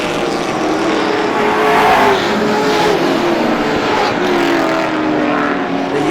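Pro stock race cars in the Granite State Pro Stock Series roar around Star Speedway, a loud sustained engine drone rising and falling as cars pass.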